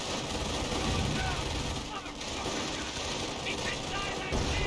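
Sustained automatic gunfire from a BAR rifleman's suppressive fire in the World War II strategy game Company of Heroes, a dense continuous battle din that runs the whole time with other weapon noise mixed in.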